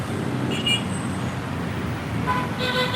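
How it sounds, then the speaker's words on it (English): Car horns toot in busy street traffic in the Philippines, short honks rising over a steady, loud roadway rumble, heard from above the street. "Here today, you hear the honking, the loudness, nighttime too actually."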